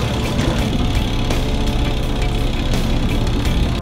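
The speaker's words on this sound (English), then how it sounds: "let the Ezywash rinse your laundry." Ezywash portable washing machine running its rinse cycle, a steady motorized churning hum with faint repetitive clicks, continuous and close, no talking.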